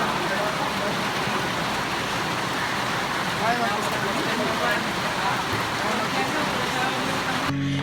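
Heavy rain pours during school hours in a steady, dense hiss that stays loud and unbroken throughout, with no talking over it.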